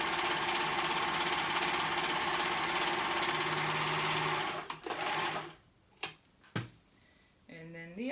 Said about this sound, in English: Just sewing the raw edges.